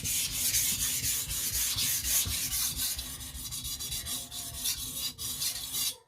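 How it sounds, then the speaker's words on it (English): A shirogami steel blade with soft iron cladding is sharpened on a stone, with rapid, steady rubbing strokes, close and even, repeating without pause. "This is shirogami with soft iron cladding, so it's a joy to sharpen"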